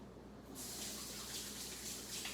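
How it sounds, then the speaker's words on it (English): Water from a kitchen or bathroom tap runs steadily while hands are washed beneath it, a soft continuous hiss and splash that starts abruptly and stays even throughout, faint and close. "Wash our hands."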